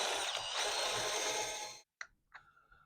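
Drill boring into water-damaged particle board veneer: a loud, steady grinding whir that stops abruptly, followed by a couple of brief faint clicks and knocks.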